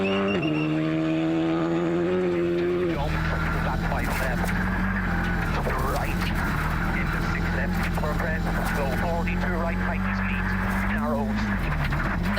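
Rally car engine running at high revs during WRC Acropolis Rally Greece shakedown, a co-driver's voice calling pace notes over the steady loud engine drone from inside the car, with a commentator talking over it.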